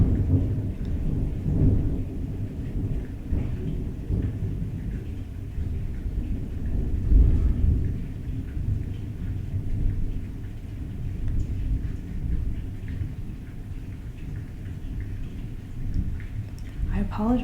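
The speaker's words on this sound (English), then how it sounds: "I apologize if thunderstorm is starting up, but I think it could be nice." A thunderstorm with steady rain fills the space with continuous low rumbling thunder and a dense patter of falling drops, heavy and enveloping throughout, with faint soft-spoken talk mixed in.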